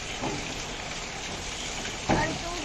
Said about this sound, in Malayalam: നന്നായിട്ട് റോസ്റ്റ് ചെയ്യുന്നുണ്ട്